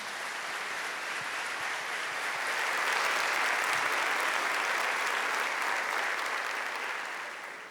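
Sustained applause from a large crowd, building slightly and holding steady before tapering off at the end, with no talking over it.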